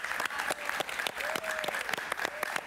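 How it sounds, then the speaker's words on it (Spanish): A TV talk-show studio audience applauds to welcome a Venezuelan singer, with steady, moderately loud clapping that runs throughout and faint voices underneath. "Un aplauso para él"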